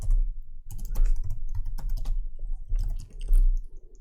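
Fast typing on a computer keyboard while entering a website address, crisp close clicks in quick irregular bursts with brief pauses between words, alone and without talk.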